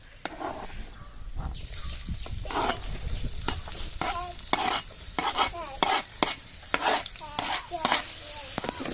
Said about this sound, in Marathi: मस्त तेल तापू दे आणि मग कांदा घालूया टाक कांदा